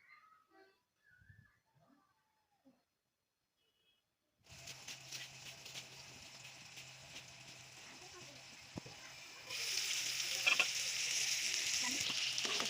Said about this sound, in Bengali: আমি মিডিয়াম হিটে সবজিগুলো একটু কষিয়ে নিব ঢেকে